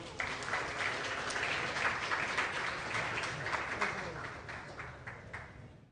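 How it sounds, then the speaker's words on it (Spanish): Audience applauding to welcome a speaker at a humanitarian agenda talk, a full, steady wash of many hands clapping that holds for several seconds and then tapers off at the end. "Recibimos al señor Carlos Mejías con un fuerte aplauso."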